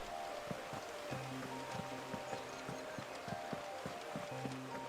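Flowing water in a video game makes a steady, hissing wash throughout, mixed with the game's tonal music and soft percussive ticks, with no one speaking.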